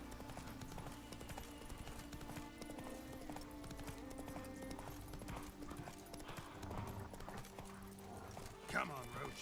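Roach the horse gallops in The Witcher 3 with a steady, fast clip-clop of hooves throughout, a brief whinny near the end, and talk and game sounds running underneath.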